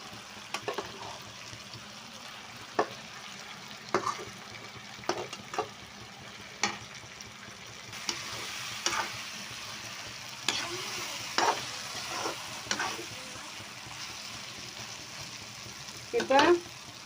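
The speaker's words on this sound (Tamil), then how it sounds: "நல்லா இது எண்ணெயிலே வதங்கிருச்சு மசாலா" Eggplant pieces and onion-tomato masala sautéing in oil in a pan for a Madurai-style brinjal masala, a soft steady sizzle broken by repeated sharp scrapes and clinks of a stirring spoon, fairly close.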